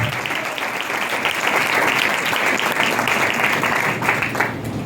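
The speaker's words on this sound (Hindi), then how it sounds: "बजाइए उसके जलाल के लिए जोरदार ताली" A church congregation breaks into loud, sustained applause, a dense steady roar of many hands clapping together for several seconds, with no speech over it.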